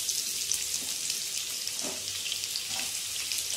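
Onions sizzle steadily in hot oil with spices for a banana kofta biryani, a constant bright crackle at moderate volume close by, with faint stirring and no talking.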